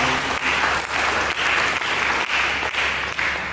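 A church congregation claps together during a sermon, a loud, continuous wash of applause with faint rhythmic pulses and a low hum beneath, no speech on top.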